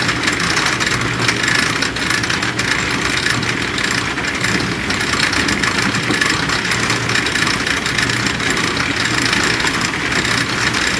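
A silage wagon's newly fitted electric motor runs steadily with a mechanical drone and rattling, constant and loud for the whole stretch with no talking.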